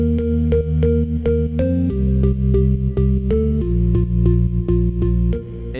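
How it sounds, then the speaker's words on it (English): A deep, sustained Korg M1 organ-preset synth bass line plays alone, moving through a few held notes with a long, washy reverb tail. "We then have the star of the show being the bass."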